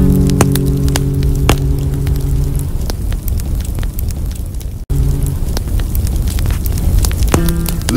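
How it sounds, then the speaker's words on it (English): A campfire crackles with scattered sharp pops and snaps over a soft rushing flame noise, steady and close, with a faint tonal hum in places. "Listen to the crackle and feel the embers warmth."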